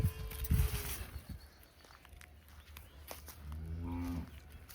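Dairy cows for sale on a farm moo in long, low calls, one deep bellow near the start and another drawn-out moo later, heard close against a quiet outdoor background.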